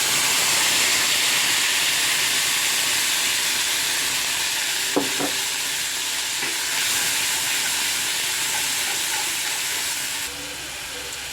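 Ground poppy seed paste dropped into a hot oiled pan, a steady loud sizzle and hiss throughout with a brief clatter of a utensil midway, then the frying quietens near the end.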